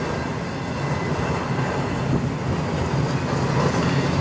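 A CN intermodal freight train led by locomotives 3881 and 2225 rolls past close by through a blizzard at Sarnia, Ontario, a steady loud roar of wheels and cars mixed with howling wind, with no talk.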